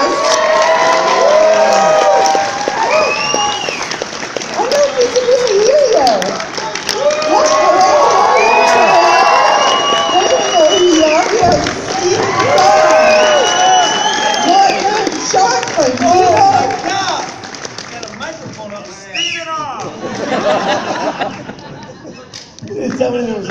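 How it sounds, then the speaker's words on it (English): Convention panel audience at a video game expo in Edmonton cheering, shouting and clapping loudly in a large hall, a sustained roar of voices with whoops rising and falling throughout. "round of applause."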